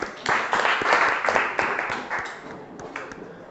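Classroom applause after a group presentation: a short burst of hand clapping from a small group that starts briskly, then thins and fades within a few seconds.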